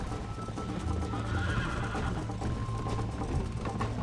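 A horse neighs and whinnies over steady clip-clopping hooves and a dense background during a horse race in the video game Red Dead Redemption, loud and continuous throughout.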